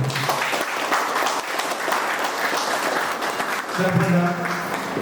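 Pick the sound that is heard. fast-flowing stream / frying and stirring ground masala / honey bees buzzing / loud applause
loud applause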